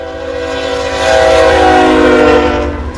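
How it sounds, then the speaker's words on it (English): CN freight train passing north of Ladysmith, a loud, close, steady roar with a sustained horn blast swelling in the middle and rail noise throughout, no voices. "2909 pass train."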